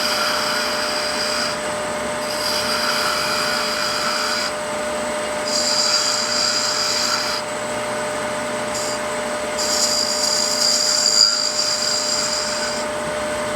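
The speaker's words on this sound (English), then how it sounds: "That's about the heaviest cut I ever want to take when I'm doing this spindle work." Spindle gouge cutting a hollowed wooden Christmas ornament with finial on a wood lathe, giving a steady motor whine under a rough, scraping hiss that comes in repeated strokes of a few seconds each.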